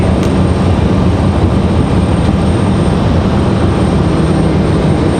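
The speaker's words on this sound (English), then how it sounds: "This one here headed off to Charlotte. It's A321. It's American Airlines 1894." An American Airlines Airbus A321 airliner departing Raleigh-Durham International gives a loud, steady roar of jet engines, a continuous dense rumble that fills the whole stretch.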